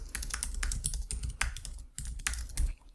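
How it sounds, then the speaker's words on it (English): Rapid, uneven keystrokes clatter on a computer keyboard, with bursts of close, crisp clicks and brief pauses and no talking. "So I'll just type coworker communication here."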